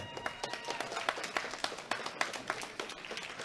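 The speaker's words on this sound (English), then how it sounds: "Give them all a big round of applause." Audience at a world classic powerlifting championship applauding deadlift medalists, a steady patter of scattered hand claps, moderately quiet and somewhat distant, with no voices.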